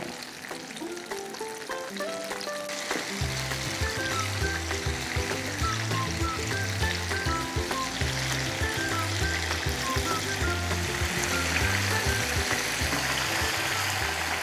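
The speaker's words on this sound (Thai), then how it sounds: "ทอดให้สุกกรอบดีเลยค่ะ เคล็ดลับก็คือน้ำมันจะต้องเยอะนะคะ ให้ท่วมกล้วยเลยยิ่งดีค่ะ" Small bananas deep-fry in plenty of oil, giving off a steady bubbling sizzle. The frying runs underneath background music that plays throughout.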